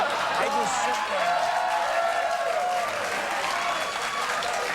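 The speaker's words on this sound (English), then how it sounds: "They're clapping" A television studio audience claps loudly and steadily on a late-night talk show, with whoops and voices mixed in over the applause.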